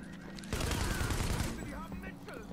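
Rapid burst of AK-47 fire in the video game The Division, a dense volley of shots lasting about a second before trailing off into quieter background game noise.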